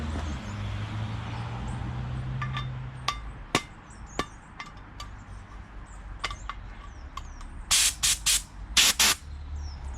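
Compressor-driven sprayer applying ACF50 petroleum-based anti-corrosion fluid, heard as sharp hissing bursts and clicks, with a few loud close spray blasts near the end and no talking.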